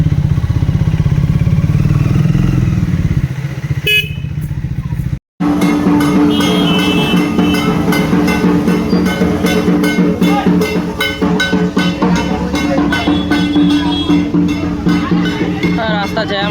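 A Triumph Speed motorcycle threads through a traffic jam, its engine droning under busy road clatter and surrounding vehicles, with voices heard over the noise.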